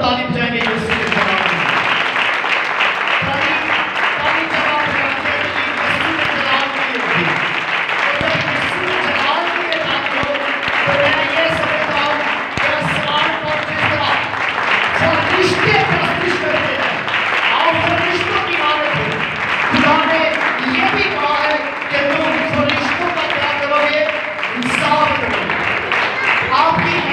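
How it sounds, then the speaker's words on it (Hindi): A church congregation claps loudly and rhythmically in unison during worship, the steady beat running throughout while a voice and music continue over it. "जोरदार ताली बजाएंगे यीशु के नाम।"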